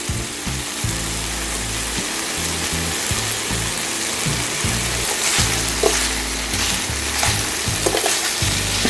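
Steak for bistec street tacos frying in oil in a pan, producing a dense, loud sizzle that runs unbroken with occasional scrapes and pops, heard up close without speech.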